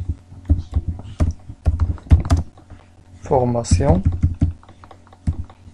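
Computer keyboard typing in a short run of crisp clicks, with a brief burst of other sound partway through and low background hum.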